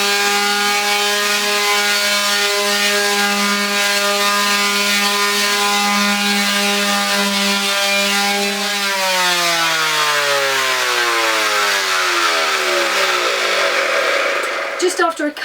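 Power sander running on wooden furniture: a loud, steady motor whine with strong harmonics that holds evenly, then drops and slows as the tool winds down near the end.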